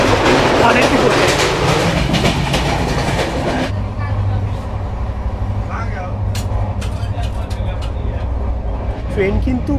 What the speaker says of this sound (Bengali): ট্রেন কিন্তু বেশ ভালো পিক আপে এগিয়ে যাচ্ছে